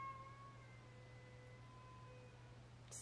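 A pet cat standing at a door meows faintly and at a distance, a few drawn-out tonal calls over a steady low electrical hum.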